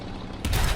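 A Chi-Ha LG tank gun fires in the War Thunder video game, a single sudden low boom cutting in over mechanical engine rumble.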